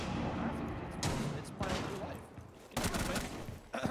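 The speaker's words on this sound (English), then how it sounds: "Flashbang." A flashbang grenade bursts in a tactical shooter game amid a dense, loud mix of gunfire-like blasts, with sharp broadband bangs recurring near the start, middle and end over constant noise.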